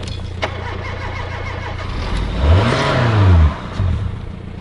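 An old car with old oil is started in the cold and revved briefly, the engine note swelling into a loud rise and fall before settling back to a rough idle.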